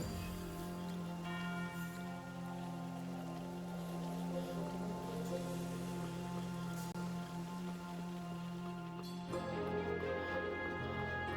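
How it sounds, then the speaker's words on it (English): Steady soft patter of rain in the Infinity Nikki video game, even and continuous under a sustained musical drone, with no talk. "I guess it's appropriate that it's raining right now."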